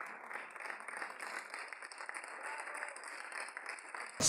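A theatre audience gives long, stormy applause at the end of the play "Uspomene Sare Bernar". Dense, even clapping fills the whole stretch as a steady rushing wash.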